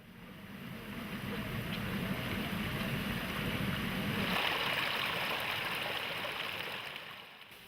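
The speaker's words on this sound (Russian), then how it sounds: "Вода приводит в движение колеса мельницы." Water rushes and churns as it drives the wheels of an old water mill used for grinding corn on the Azores, a steady close roar that swells louder midway before easing off.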